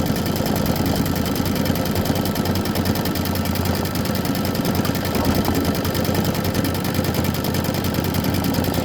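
A sewing machine runs continuously while stitching background quilting on a quilt, a fast, even mechanical whir and chatter held at steady loudness with no pauses.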